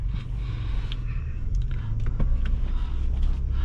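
A 2019 Lincoln Navigator Reserve L AWD, a heavy luxury SUV of nearly 6,000 pounds, pulls away in drive with a steady low engine and road rumble heard from inside the cabin, plus a few small clicks and cabin noises.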